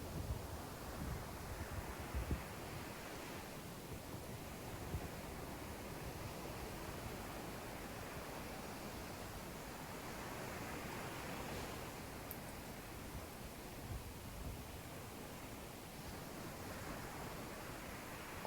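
Sea waves as a continuous, faint wash of surf noise that swells slowly and steadily, with no distinct breaks or voices.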